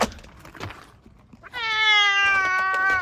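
A cat lets out one long, loud, drawn-out meow right up close, following a few seconds of quiet rustling and small knocks.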